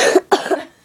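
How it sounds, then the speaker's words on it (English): Two sharp, close coughs in quick succession, the second trailing off into a short rasp. "I had a cough at the same time"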